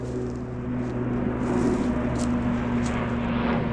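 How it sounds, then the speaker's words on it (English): A large aircraft roars overhead near a forest fire by a cabin, a loud continuous engine drone under steady broadband noise. "got another plane ripping through"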